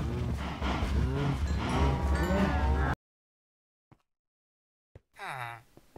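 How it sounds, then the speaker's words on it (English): Cows in the Minecraft video game moo in a dense, loud overlapping chorus for about three seconds, followed by silence with a couple of faint clicks and one more short moo at the end. "Now I have so many cows."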